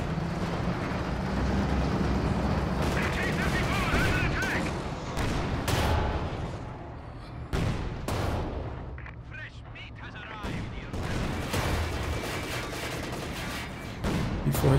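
In a Company of Heroes 2 match, a Panzer IV tank fires alongside rattling small-arms gunfire and loud cannon blasts, with dense, continuous battle noise and sharp booms breaking through.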